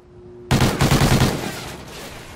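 Rapid burst of video game gunfire in a competitive shooter match, several close shots fired in quick succession, loud and sharp, then trailing off, no talk over it.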